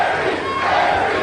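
Dense, loud roar of a wrestling arena crowd at a 2003 NWA TNA match, AJ Styles against Larry Zbyszko, a steady wash of cheering and shouting with no pauses.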